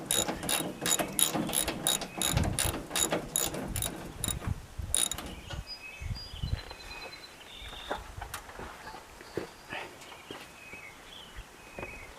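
A hand ratchet with a six-point socket works a radiator bolt on a 1992 Ford 3930 4x4 shuttle-shift tractor: a close, rapid run of clicking pawl strokes, then slower scattered clicks with faint outdoor birdsong and a person speaking.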